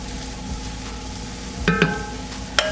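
Broccoli cooks down in a pot for keto broccoli and cheddar soup, a soft steady simmer and faint sizzle running under a few brief clinks and scrapes from stirring.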